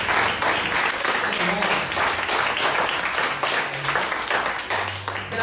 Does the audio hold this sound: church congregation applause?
yes